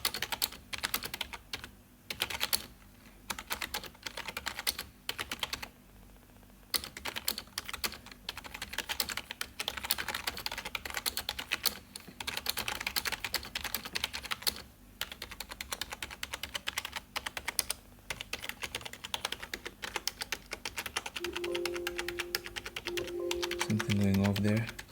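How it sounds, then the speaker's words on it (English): Fast, continuous clacking of keys being typed on a Logitech G105 gaming keyboard, close and crisp, with brief pauses between bursts and a few louder thumps near the end. "I'm gonna just show you how the keyboard types."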